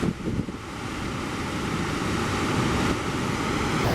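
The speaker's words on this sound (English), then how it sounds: "We made it to the base of the waterfall." At the base of a waterfall in Southeast Alaska, a dense, continuous roar of falling water rushes close by, with gusty wind buffeting the microphone at the start and no talking.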